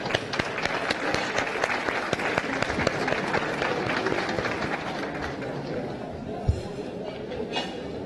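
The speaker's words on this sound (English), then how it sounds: "wish them success by a very big round of applause" A big round of applause from an audience at a live event, dense and sustained clapping that stays loud throughout, with faint voices mixed beneath it.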